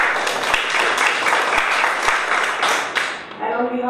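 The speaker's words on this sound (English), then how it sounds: "So big round of applause to KYT as well." An audience at a public talk event breaks into applause, a dense wash of clapping that fades out near the end, with a few sharp knocks.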